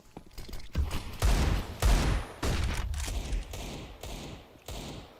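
Bursts of AK-47 rifle fire in a Counter-Strike match on Vertigo, several separate volleys of rapid shots with short gaps between, loud and close.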